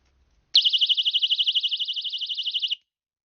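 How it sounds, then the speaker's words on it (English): A personal safety alarm on a wristlet keychain gives one piercing, rapidly warbling electronic siren, loud and alone for about two seconds before cutting off. "I will show you how to use the alarm"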